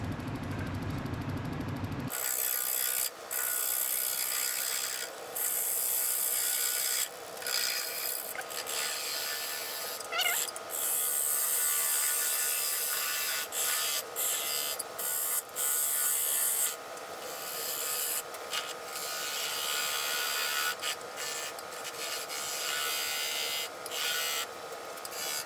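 A maple blank spins on a wood lathe at about 750 rpm while being roughed out, giving a steady mechanical whir with repeated scraping bursts from the tool cutting the wood, close and continuous with no talking.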